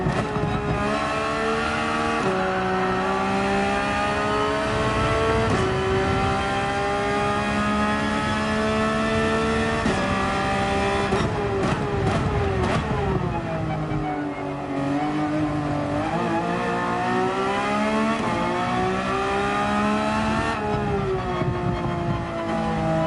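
Race car engine in Gran Turismo 7 at Monza, revving through gear changes with rising and falling pitch, loud and steady throughout, a possible Porsche 911, with brief tire squeal near the middle.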